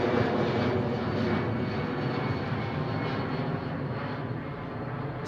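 A VistaJet Bombardier business jet passes near London Heathrow, its loud jet roar strong at the start and easing slightly as it moves away, with no talking over it.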